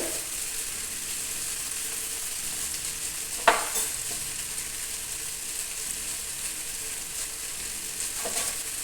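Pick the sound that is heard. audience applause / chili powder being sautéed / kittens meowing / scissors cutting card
chili powder being sautéed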